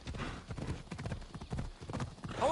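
Horse hooves clip-clop at a steady trotting rhythm in the video game Assassin's Creed Odyssey, loud and close and continuing through the whole stretch, with a brief whinny-like sound near the end.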